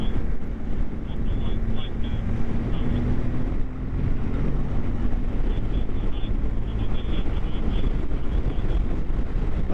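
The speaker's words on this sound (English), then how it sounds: "It's a bit windy here." Steady wind buffets the microphone on an exposed road during a motorcycle ride toward the Pontcysyllte Aqueduct in Wales, a constant broadband rush with engine rumble beneath it throughout.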